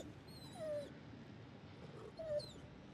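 Injured dog in The Devil in Me video game letting out two faint, high whimpers about a second and a half apart over a quiet low background.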